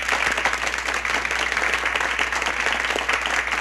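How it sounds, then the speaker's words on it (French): An audience at a Canadian-style evening of songs claps steadily, a short burst of dense, even applause with no voices on top. "On les applaudit."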